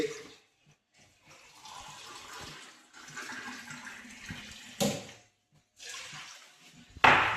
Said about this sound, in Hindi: चावल तो अब इसी के साथ 2 गिलास पानी डाल देते हैं हम